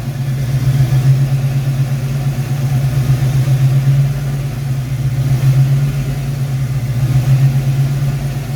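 A Foxbody Mustang V8 idles loud and close through a cylinder balance test with cylinder 8 cut, a steady low drone pulsing gently in slow surges.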